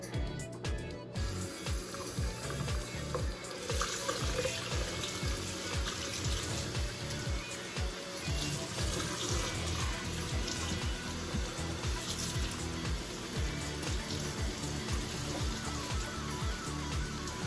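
Tap water running steadily and splashing while conditioner is rinsed out of a wig, a continuous close wash with uneven spatter and no talking.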